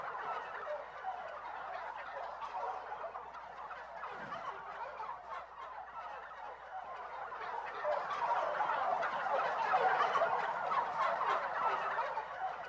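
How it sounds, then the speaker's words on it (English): Wild turkeys gobble repeatedly outdoors, a chorus of rattling calls overlapping at a moderate distance with no talking. "But our story is about a bird of a different feather. The wild turkey."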